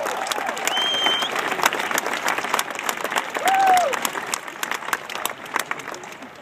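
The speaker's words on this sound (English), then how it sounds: "so give them all a big round of applause" An audience at a Barack Obama speech at an academy claps steadily in sustained applause, with a couple of whistles cutting through the crowd noise.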